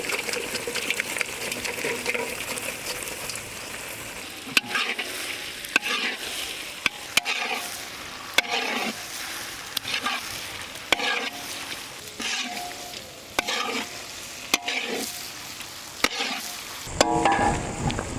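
Pre-fried chicken stirred into a hot frying pan for chicken noodles: continuous sizzling with repeated sharp scraping and clanking of a spatula at irregular intervals, close and fairly loud.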